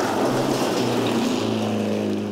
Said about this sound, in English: You can hear the car slowing off the exit of the corner